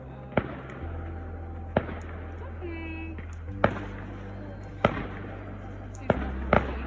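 Fireworks go off near horses as a series of sharp, separate bangs about a second apart, over a low steady hum and faint background sounds.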